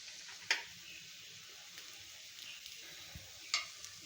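A potato vada shallow-frying in a pan with only a little oil gives a faint, steady sizzle, broken by two brief sharper crackles or scrapes.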